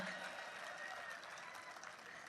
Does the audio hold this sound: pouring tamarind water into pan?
no